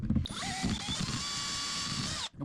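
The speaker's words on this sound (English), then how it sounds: "Alright, so we're gonna pre-drill this." Up close, a power drill with a bit pre-drills a hole during a refrigerator valve replacement. A few knocks lead into about two seconds of steady motor whine, which then stops abruptly.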